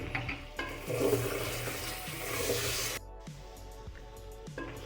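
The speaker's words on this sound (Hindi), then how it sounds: "ये सारी चीज़ें जो है हम डाल देंगे, डाल के इनको भून लेंगे।" Turmeric, chili and salt fry with chicken in a pot, giving a hissing, spraying sizzle with stirring scrapes. It cuts out sharply partway through, and a few close utensil knocks follow, with no talking.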